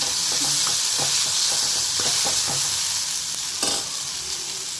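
Onions sautéing in hot oil in a pan for vermicelli kichadi: a loud, continuous sizzle up close, with repeated light scraping and tapping of a stirring spoon.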